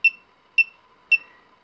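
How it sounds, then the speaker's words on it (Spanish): A small buzzer on a homemade radio-control alarm receiver gives short, sharp electronic beeps at a steady rhythm, about every half second, clear and alone. "esto es un pitido normal corriente"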